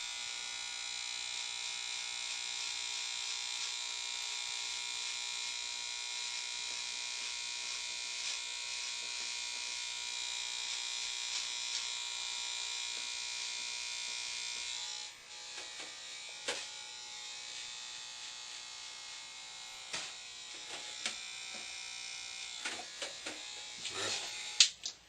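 Electric hair clippers buzz steadily while cutting a taper haircut with the guard extended all the way out, a close continuous whine that later breaks into short bursts with small clicks and rustles.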